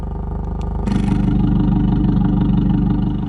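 An Abarth 500 with a valved exhaust idles with a deep, throaty burble that suddenly gets louder and fuller as the valves switch to loud mode, then rumbles on steadily, close by.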